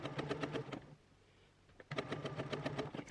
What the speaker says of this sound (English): I'm going to backstitch and take the work out from under the machine.